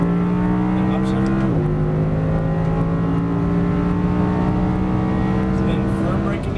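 An Audi R8 engine revs hard and steadily on track, dropping briefly at an upshift around one and a half seconds in, then droning on at a loud, near, constant pitch.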